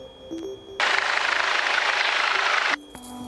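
A Cabri G2 helicopter taxiing on an airport taxiway hums steadily, broken by a loud, sustained broadband rush lasting about two seconds before the quieter tonal drone returns.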